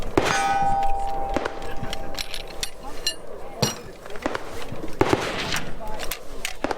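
A rifle being taken apart to switch caliber, with sharp metallic clanks and clicks of parts separating, several distinct close knocks spread across the clip with faint background noise and murmur.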